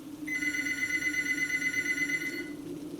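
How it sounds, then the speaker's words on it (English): Telephone on an internal line ringing in a building at night, one sustained electronic trill for about two seconds, clear and alone over a quiet hum. "Then the phone rang."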